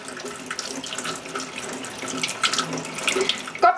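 Tap water runs steadily into a sink, rinsing lather off a Sigma brush-cleaning glove, a continuous close splashing hiss with a few louder splashes near the end.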